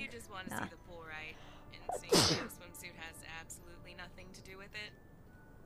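One sharp, loud sneeze bursts out midway, set among people talking and game-stream audio.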